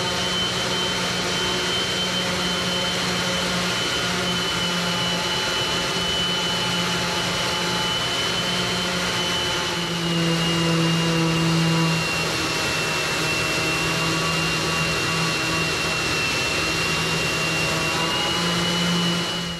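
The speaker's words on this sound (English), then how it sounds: "We'll see if we can get even better with a shop vac attached to it." Craftsman 5-inch orbital palm sander with a shop vac hooked up, a steady loud whirring motor drone with a vacuum hiss layered over it, running continuously with a slight pitch shift midway.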